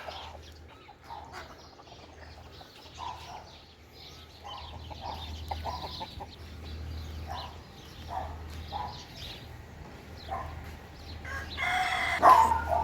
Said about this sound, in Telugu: మొత్తం కోళ్ళు కూడా ఉన్నాయి.